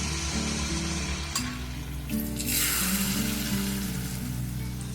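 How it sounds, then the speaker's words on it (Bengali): Malpua frying in a small amount of oil over a low gas flame, a steady soft sizzle running without a break, with faint clinks and a louder flare of bubbling partway through. "গ্যাসের ফ্লেমটাকে একদম লো রেখে কম তেলে আমি এই মালপোয়াগুলো ভেজে নেব"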